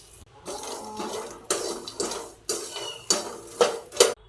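Makhana lotus seeds roast in butter in a metal kadai as a spoon stirs and scrapes them in a quick rhythmic series of bright, close clinks and rustles.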